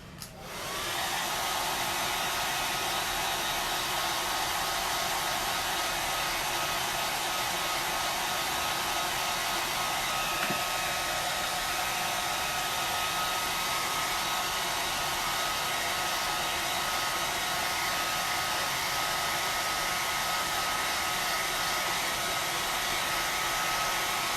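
A hair dryer blows steadily and loudly, drying chalk paste on a wooden pumpkin, a continuous broadband whoosh that runs unbroken from start to finish with no talking over it.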